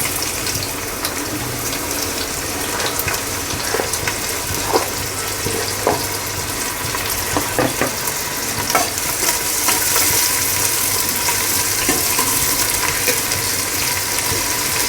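Chopped onions fry in hot oil with a steady, loud sizzle and crackle, stirred now and then, continuous throughout with no voices.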